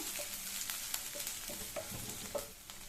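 Onions and bitter gourd sauté in a pan for pavakkai chukka, giving a steady soft sizzle broken by scattered clicks and scrapes of stirring.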